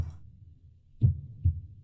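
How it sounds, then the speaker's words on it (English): A heartbeat sound played in a demo: two soft, low thumps about half a second apart, a lub-dub pulse over a steady low hum. "Heartbeat."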